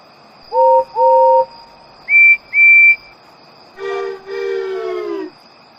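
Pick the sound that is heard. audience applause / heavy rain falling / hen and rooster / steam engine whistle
steam engine whistle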